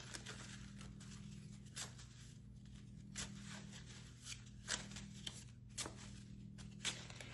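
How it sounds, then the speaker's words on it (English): Cut-up paper cards are shuffled by hand, soft quick riffles and patters in short bursts over a steady low hum, faint and close. "we're gonna give it a good old shuffle"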